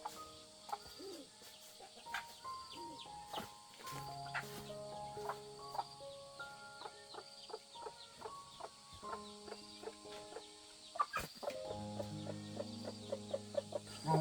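Chickens and small chicks clucking and peeping around a backyard coop, a steady busy chorus of short calls close by with a few louder clucks standing out, no talking.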